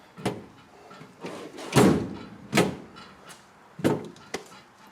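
Metal drawers on a Husky garage toolbox are shoved shut several times, each one landing with a sharp bang and rattle followed by a brief rebound clatter, close and loud with no talking.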